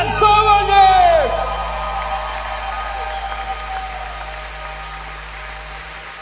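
Audience applause and whoops at a live concert at GORS, loud at first and then tapering off into a thinner patter of clapping as a singing note fades out.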